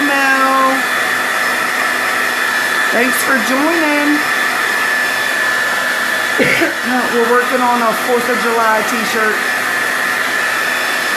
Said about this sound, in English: I'm going to hit it with my blow dryer.